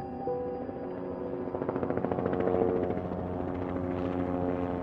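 Mayo Clinic medical helicopter Mayo 1 in flight, a steady loud rotor drone with a rhythmic blade chop that swells midway, then holds as a continuous engine hum, no talk.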